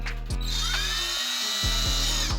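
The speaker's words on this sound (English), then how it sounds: "So y'all saw me drill on that" A power drill bores into a ceiling while an acoustic panel is hung in a home studio, the motor whining steadily with a short pause, then revving again in short bursts nearby.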